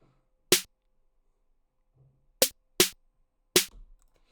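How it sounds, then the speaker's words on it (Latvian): Sharp electronic snare hits in a hip-hop beat, four crisp cracks spaced unevenly with near silence between them, loud and close with no other instruments. "Tad ir snare."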